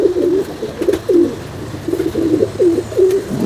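A large pigeon coos close by, a string of soft, throaty, rolling calls repeated in a quick, uneven rhythm without pause.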